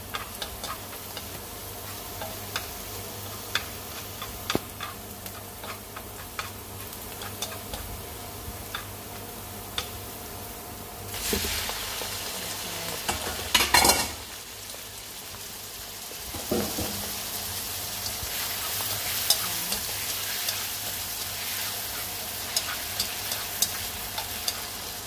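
Oysters stir-fried in a pan with garlic and shallots: a steady, close sizzle with scattered ticking and scraping from stirring, plus a few louder clattering bursts partway through.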